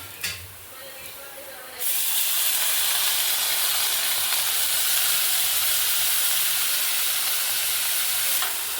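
Soaked moong dal hits a hot pan and sizzles while it roasts, a loud, steady, broadband hiss that begins abruptly after a brief quieter moment and carries on without a break, close up.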